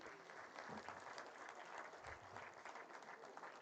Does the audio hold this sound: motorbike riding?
no